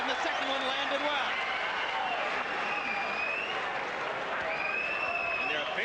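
Boxing arena crowd cheering during a Chris Byrd versus Vitali Klitschko fight: steady, dense roar of voices and applause filling the whole stretch, with a commentator talking over it.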